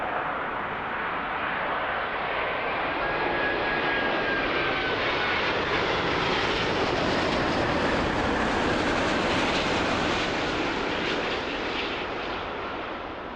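A jet airliner comes in to land on runway 05 at Toronto Pearson, its engine roar swelling to a broad, loud rush as it passes overhead and then easing slightly as it moves away.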